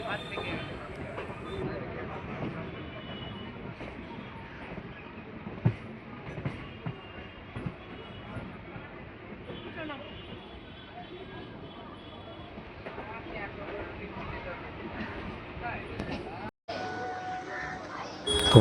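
A local train pulls into Bandel Junction, platform 7, with a steady rumble of wheels and carriage noise throughout and occasional clanks, while people talk nearby.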